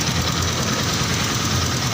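A Yamaha Jupiter MX 135 motorcycle engine idles smoothly and steadily up close, a continuous even mechanical hum with no revving during the stretch.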